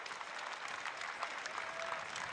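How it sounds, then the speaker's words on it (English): A college baseball crowd at an Alabama versus Oklahoma game applauds Oklahoma pitcher Cameron Johnson as he leaves, a faint, distant ripple of clapping and crowd noise spread across the ballpark. "The applause have already started for an excellent performance today for Cameron Johnson"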